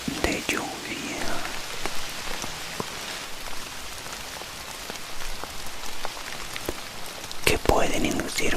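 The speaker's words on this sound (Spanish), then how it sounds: "gotas de lluvia," Raindrops falling and pattering on a surface in an ASMR recording, with scattered close drips and taps over a constant hiss of rain, and soft whispering over parts of it.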